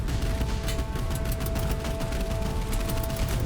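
Rapid gunfire crackles nonstop in a night naval battle in the game Boat Crew, dense overlapping bursts from boats close by and farther off, with no talking.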